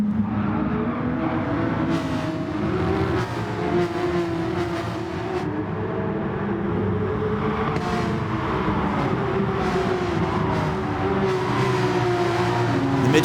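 Porsche Supercup race cars circulating at Monza in a racing sim game, a steady dense engine drone with shifting pitches from several nearby cars, continuous and fairly loud with occasional passing surges.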